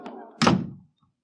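An old radio drama door slams shut with a single heavy, close wooden thunk, following a brief creak of it swinging, then dead silence.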